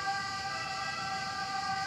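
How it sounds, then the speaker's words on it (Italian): An ambulance siren wails on a street, a steady high-pitched tone holding at moderate volume for the whole stretch with faint traffic noise beneath it. "facciamo passare l'ambulanza, che ogni momento, ogni istante passano le ambulanze."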